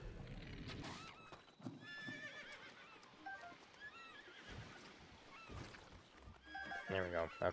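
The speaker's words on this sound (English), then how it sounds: "Oh, Mr. Horsey." A horse neighs and whinnies in The Legend of Zelda: Breath of the Wild, with clip-clop hooves, loud and close, plus a strong whinny near the end amid game sounds.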